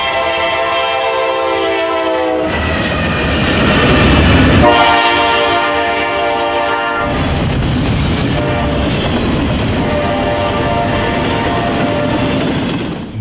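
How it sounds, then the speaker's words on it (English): Two Norfolk Southern freight trains meet and pass, eastbound intermodal 24Z and westbound 205: loud, steady rumble and wheel clatter throughout, with a long sustained horn blast near the start and again mid-pass. "We watched as eastbound intermodal train 24Z passed by the westbound 205."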